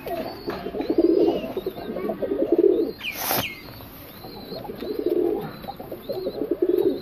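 Pigeons coo in soft, throaty bursts close by, with repeated murmuring calls, a brief wing flutter in the middle and faint chirps in the background.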